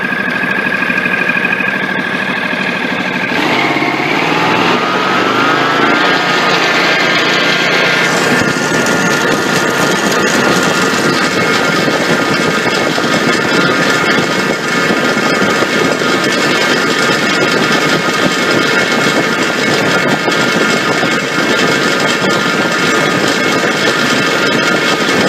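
A small engine runs loud and steady, its pitch climbing as the RPMs are raised and then holding at a constant high drone for the rest of the stretch.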